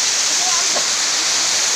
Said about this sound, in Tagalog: So, ito yung pangalawang falls na pinunta namin.